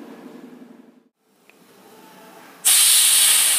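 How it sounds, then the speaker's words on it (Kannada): Pressure cooker cooking fenugreek seed rice lets out a sudden loud, sustained hissing whistle of steam near the end, after a quiet stretch with faint kitchen noise. "3 ವಿಸಲ್ ಕೂಗಿತ್ತು ಕುಕ್ಕರ್"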